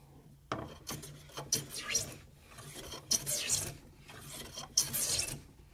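A hand plane taking heavy, full-width shavings across end grain Texas ash, several close, bursting rasps in irregular strokes separated by short pauses.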